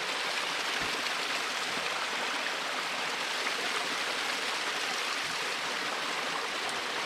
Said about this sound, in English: These beautiful little waterfalls.